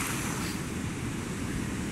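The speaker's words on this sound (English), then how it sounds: "It's not very often that we have waves here." Ocean waves at an Ibiza beach on a rare day of surf, a continuous broad wash of breaking water mixed with wind noise on the microphone, with no voices.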